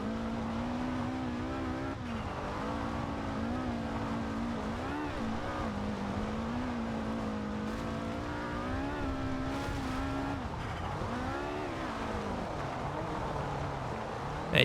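Car drifting in Forza Horizon 2, a continuous engine drone that rises and falls in pitch as the revs change, steady and moderately loud with no voices over it.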